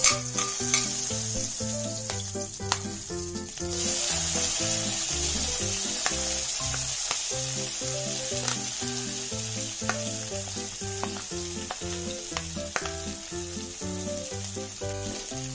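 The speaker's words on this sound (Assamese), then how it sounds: "পিঁয়াজখিনি অকণ ৰঙচুৱা কৰি ভাজি লওঁ" Onions fry in oil over high heat for a dry fish curry, a loud continuous sizzle with intermittent stirring clicks under steady background music, no talking.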